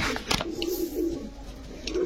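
Pigeons cooing after being poked with a stick, a low rolling coo close by, with a couple of brief scuffling knocks and no talk.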